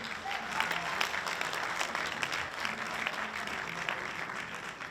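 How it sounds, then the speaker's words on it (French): Applause for the juggler of the year at an awards evening, a sustained, dense wash of clapping from a crowd, steady and fairly even throughout, with some faint voices underneath. "on va l'acclamer plus fort"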